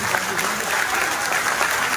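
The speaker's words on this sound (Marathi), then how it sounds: "त्यांच्यासाठी जरा जोरदार टाळ्या झाल्या पाहिजे" An audience at a public speech applauds, dense clapping from many hands spread evenly across a brief moment.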